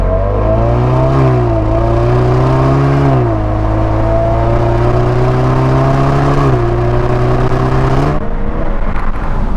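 A turbocharged 2.0-liter four-cylinder in a 2018 Chevrolet Camaro RS revs hard, its loud, steady engine note climbing and dropping through several gear changes with no talk over it.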